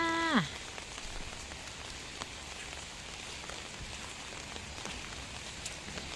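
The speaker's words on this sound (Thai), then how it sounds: "บรรยากาศฝนตก" Steady rain patters on a surface throughout, a soft continuous hiss with scattered drops, after a brief descending chime at the start.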